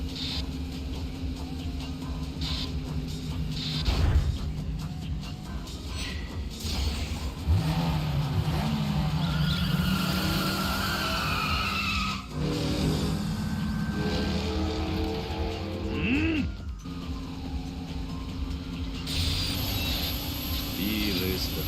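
Taxi racing in Yakuza 5, with car engines revving and accelerating in steady waves and occasional skid-like squeals, mid-level and continuous throughout, with talk at times over the game sounds.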